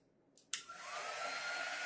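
A hair dryer switches on with a sharp click and settles into a steady, close whooshing roar while drying chalk paste on a surface.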